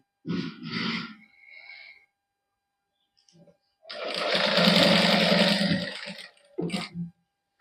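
A sewing machine stitches a plain fabric patch onto the neckline of a matching suit. Two short loud bursts come first, then a long steady whirring run after a pause, and a final brief burst.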